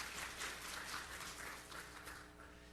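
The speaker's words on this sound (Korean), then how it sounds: "박수로 맞이해 주시기 바랍니다." Applause at an architecture and urban forum seminar greeting a presenter, a moderate, somewhat distant patter of many hands clapping from a seated audience, tapering gently toward the end.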